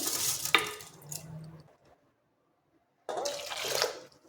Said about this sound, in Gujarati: હવે આપણે એમાં ચોખા નાખી દઈશું